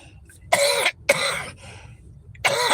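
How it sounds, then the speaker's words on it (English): Three harsh coughs, close and loud, with short pauses between them; no talking. "I'm so sick of this cough."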